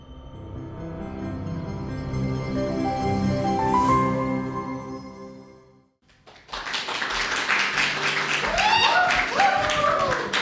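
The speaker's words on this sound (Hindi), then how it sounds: "तालियां ज़्यादा बजा दी" An audience bursts into loud, sustained applause and clapping right after a Hindi poem recital, a dense crowd sound close by that follows a performer's voice.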